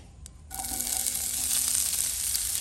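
Onions sizzle steadily in hot coconut oil with whole garam masala, cinnamon, cloves and fennel, a dense close frying hiss that swells after a brief quiet start and holds without talk.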